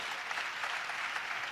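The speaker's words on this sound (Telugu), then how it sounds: "గట్టిగా చప్పట్లు కొడుతూ స్తోత్రాలు చెప్దాం" A church congregation claps together in continuous, dense applause during a worship service, heard steadily at moderate distance with no voices over it.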